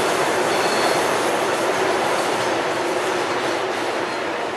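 CPTM PR22 locomotives with a helper engine maneuvering a train at Lapa, giving a steady, loud rumble of rolling rail wagons and wheel noise that holds throughout, close by, with no talk.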